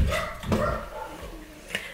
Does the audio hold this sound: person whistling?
no